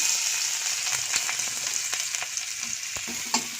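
Chopped onions hiss and sizzle steadily in hot oil in a pan, a loud continuous fry broken by light stirring clicks and scrapes, close up with no voices.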